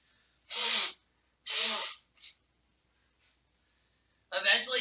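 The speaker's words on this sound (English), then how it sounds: "I need to blow my nose." A person blows their nose close by, with two strong, breathy nasal bursts, a short third puff, then quiet before another rough blow begins at the end.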